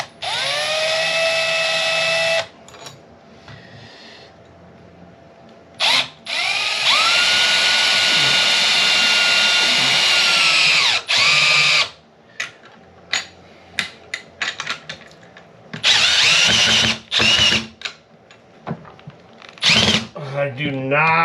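Power drill driving a Phillips screw into a hardwood staircase newel post without a pilot hole, long whining high-pitched bursts of the motor, then shorter stop-start pulses and clicks, close and loud.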